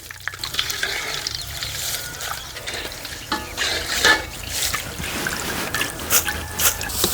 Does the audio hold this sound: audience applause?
no